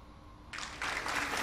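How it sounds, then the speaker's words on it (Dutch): Applause breaking out as a burst of clapping that starts abruptly and grows fuller and louder over a second, moderately close, with no talking over it. "Ik kan me zo wel even een applaus geven"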